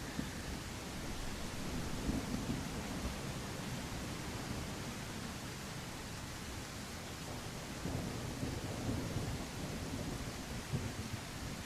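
Steady rain pours in The Isle game world with low rumbling thunder underneath, a continuous dense wash holding even loudness throughout with slight swells near the two- and eight-second marks.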